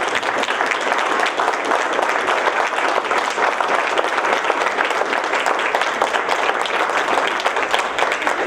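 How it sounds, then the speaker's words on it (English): Audience at a civic candidates forum breaking into sustained applause, dense steady clapping from a crowd filling the room at even loudness throughout. "let's give just a real brief round of applause"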